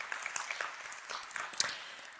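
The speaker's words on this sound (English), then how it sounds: "Please give her a warm round of applause." Light, scattered clapping from a conference audience welcoming a woman panelist at a European innovation and investment event, fairly quiet with individual claps standing out, no voices.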